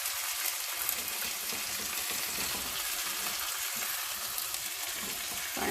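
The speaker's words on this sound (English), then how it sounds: "we're going to come and give this a good stir" A pan of chicken fettuccine alfredo sizzling steadily while being stirred, a constant loud bubbling hiss up close with faint scraping movement underneath.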